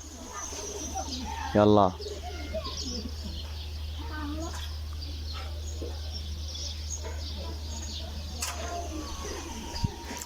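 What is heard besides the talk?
pigeons cooing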